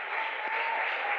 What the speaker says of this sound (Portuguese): Deus abençoa as palmas